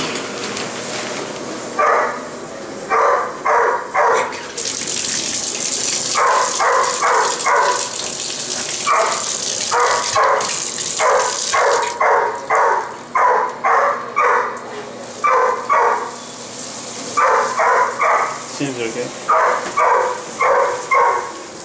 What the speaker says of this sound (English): It's a big dog for that little cage.